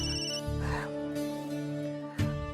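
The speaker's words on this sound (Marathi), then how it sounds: "जावे बापूंचा फोन" A phone rings with a steady, sustained electronic ringtone, heard close and clear for a couple of seconds over a quiet room.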